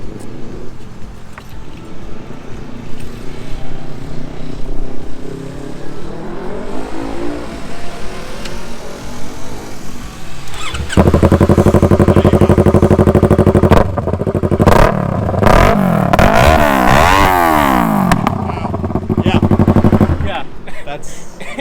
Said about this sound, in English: From what you've heard, it's essentially just a straight pipe bike. Right. It is loud. It is very loud.